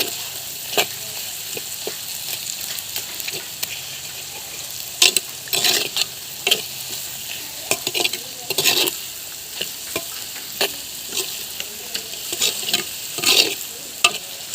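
Jaggery melting as it is stirred in a pan for a village-style citron pickle, a soft steady sizzle under repeated scraping strokes of a spoon against the pan, close and alone without talk.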